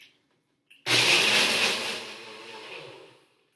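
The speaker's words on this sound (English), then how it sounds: "And you're just going to blend it." A blender whirs loudly as it purees cashew cream, starting abruptly after a short silence and holding a steady roar before gradually winding down and fading out.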